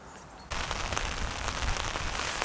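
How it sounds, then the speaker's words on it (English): Heavy rain starts abruptly outdoors, jumping from a faint patter to a dense, loud, steady roar of drops that continues without break. "Right on cue, it has just started to rain much more heavily."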